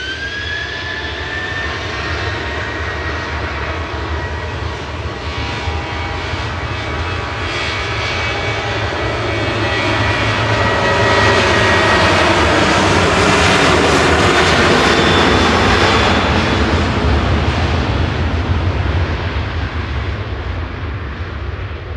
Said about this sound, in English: departing now is Ryanair to Palma with flight